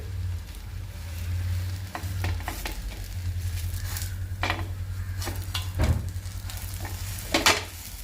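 An instant vegetable dosa fries in oil on a pan with a steady, soft sizzle, broken by scraping strokes and metallic taps as it is turned.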